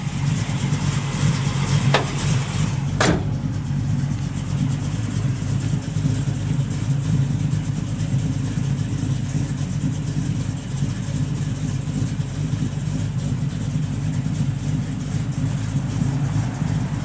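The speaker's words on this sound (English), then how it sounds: "Nice sounding camshaft in it, just thumps out the back." A 1968 Chevrolet Camaro SS 350 with a four-speed idles steadily, its cammed V8 thumping out the exhaust in a low, lumpy rhythm, with two sharp clicks near the start and no talk.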